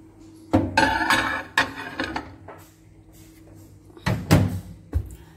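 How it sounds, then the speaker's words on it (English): Several sharp clunks and bangs of a microwave door being opened and shut nearby, with quieter rattling between them and a low steady hum underneath. "I'm about to put it in microwave now."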